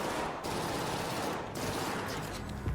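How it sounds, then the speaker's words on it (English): Sustained bursts of automatic gunfire in the ARC Raiders shooter game, a loud continuous crackling fusillade with brief gaps and no talking. "It's a lot of shooting."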